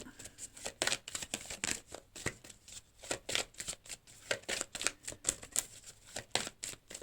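Tarot cards are shuffled close by for a weekly astrology reading, a quick run of crisp riffling flicks in uneven bursts, with no talk over them.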